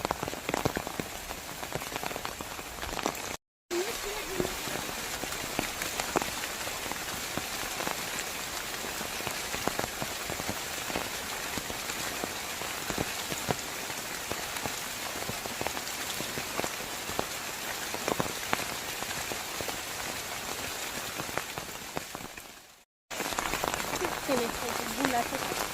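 Steady, heavy rain pours down over a flood-hit village where crops and pointed-gourd trellises have collapsed. The dense, even hiss runs nearly unbroken and close by, with only two brief drops out of the sound.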